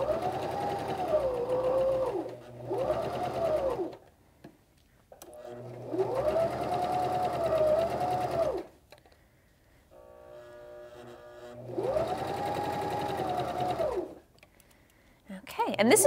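A sewing machine stitches fabric in several long bursts of steady whirring, pausing briefly between runs while the cloth is turned to sew a right-angle corner.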